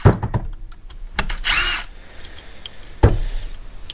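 A power tool, likely an impact gun, buzzes in a loud burst while removing ring gear bolts from a Willys CJ-2A differential carrier, framed by sharp metallic clanks and knocks at the start and near the end.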